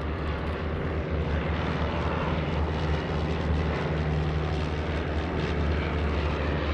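A Piper Cub L-Bird light propeller airplane flies overhead at a World War II event, its engine a steady, moderately distant drone that stays even throughout with no talking.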